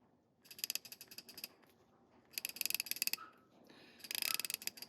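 Astro Tools 1/2-inch ratchet, oiled with 3-in-1 oil, clicking in three quick rapid bursts, crisp and close with short pauses between.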